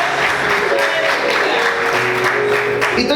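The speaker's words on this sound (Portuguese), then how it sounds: "Aplaudir Jesus." A church congregation claps loudly and continuously, dense applause filling the whole moment with a faint hum of voices mixed in.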